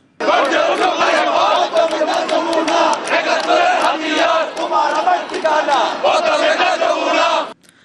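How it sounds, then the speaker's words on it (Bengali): A large crowd of Bangladeshi expatriate protesters chants slogans demanding war crimes trials at a demonstration. The chanting is loud, dense and continuous, with rhythmic shouting that stops abruptly at the end. "যুদ্ধাপরাধীদের বিচারের দাবিতে বিভিন্ন স্লোগান দেন তারা"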